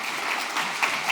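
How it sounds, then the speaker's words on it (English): A conference audience applauds a product team on stage at a live event: a brief, steady burst of dense clapping at moderate volume. "let's give our amazing product team a good round of applause"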